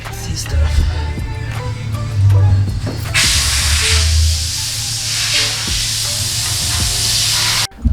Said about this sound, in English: Jack the car up, so I'm gonna go spray underneath now.